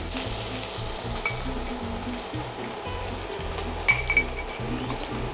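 Oil frying in a pan for a pumpkin stew after turmeric and pepper are tipped in, a steady close sizzle with a low rumbling hum underneath and a few sharp utensil clinks against the pan near the end.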